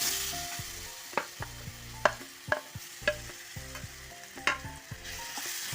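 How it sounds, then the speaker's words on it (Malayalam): Chopped banana frying in ghee in a pan, a soft continuous sizzle broken by regular spatula knocks and scrapes as it is stirred, with no one speaking. "അതിലേക്ക് നമുക്ക് അരിഞ്ഞു വെച്ചേക്കുന്ന പഴം ഇട്ട് കൊടുക്കാം"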